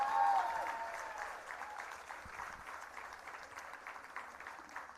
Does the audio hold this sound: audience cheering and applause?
yes